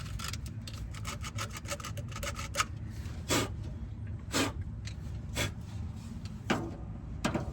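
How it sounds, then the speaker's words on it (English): Sandpaper rubbed over the ignition contacts of a 1968 Ford F100 pulled from a salvage yard, giving short repeated rasping strokes in an uneven rhythm, close and fairly quiet. "That's all it takes, just some sandpaper."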